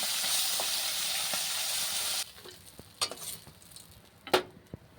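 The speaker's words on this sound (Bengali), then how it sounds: "আর কটা মাছ ছিল আমার কাছে, এগুলো ভেজে নিচ্ছি" Small fish fry in oil with a dense, loud sizzle that cuts off abruptly after two seconds, leaving a quieter hiss with a few sharp spatters and utensil clicks.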